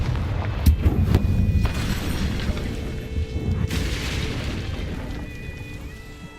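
A Confringo blasting spell explodes in the Hogwarts Legacy video game, giving a deep booming burst with rumbling debris, followed by a second fiery blast and a fading roar.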